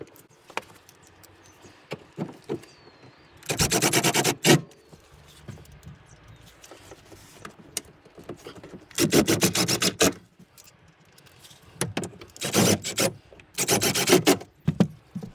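Torx bolts are refitted into the rear bumper of a BMW E60. Each bolt gives a close, rough ratcheting or rubbing burst, repeated several times with quiet pauses between them.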